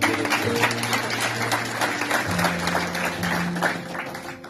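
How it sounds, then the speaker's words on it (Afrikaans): A church congregation claps hands together during a Sunday service, a continuous patter of many hands at moderate distance, with a sustained organ or keyboard chord ringing underneath and changing pitch midway. "Kom ons gee hande klap."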